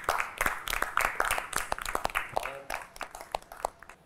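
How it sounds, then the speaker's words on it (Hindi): Studio audience on the Tamasha game show clapping for themselves, scattered close hand claps in an uneven rhythm, fairly quiet, with a voice briefly speaking over them. "आप लोग अपने लिए तालियां बजा लें"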